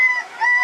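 A person briefly imitates a rooster's crow, a short, bright, strained vocal cry.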